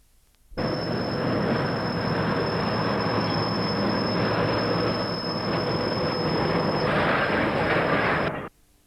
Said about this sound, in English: A loaded train from the ore stockpile passes West Junction